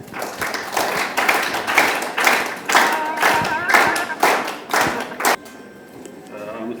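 An audience at a St. Mary's University gathering honoring the elderly applauds to welcome the vice president giving the opening address, loud dense clapping for about five seconds before it drops away.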